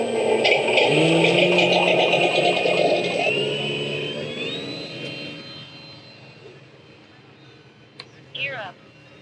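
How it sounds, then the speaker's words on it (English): A small radio-controlled model airplane engine whines loudly at takeoff, its pitch rising as it pulls away and fades into the distance, followed by a couple of brief clicks. "he's going to fly his airplane"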